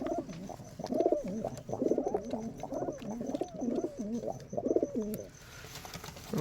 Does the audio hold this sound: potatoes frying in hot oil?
no